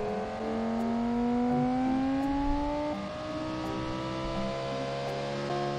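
A car engine revs during a driving lesson, its droning pitch climbing steadily and dipping briefly before holding again, up close and without talk.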